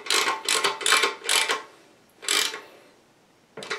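Bolt on a toilet tank is tightened with a ratcheting tool, giving a series of close, bright ratchet bursts in a regular rhythm, then a pause and one more burst.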